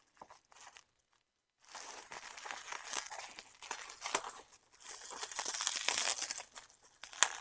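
Mail package packaging is cut and torn open close up in bursts of crinkling, tearing and rustling, with a short quiet gap near the start and a louder stretch of crackling toward the end.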